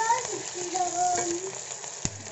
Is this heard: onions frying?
yes